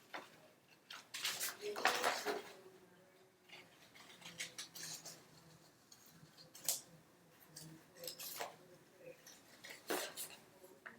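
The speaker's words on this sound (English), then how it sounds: "I'm going to use my scissors, and I'm going to begin cutting my balloon out." Scissors cutting a paper balloon shape for a Father's Day hot air balloon craft: quiet, irregular snips and paper rustles close by, with a few sharper crisp cuts spread across the stretch.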